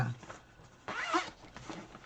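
A zipper on a finished fabric briefcase is pulled, with a short tug and then a longer, louder zip run, heard close and alone.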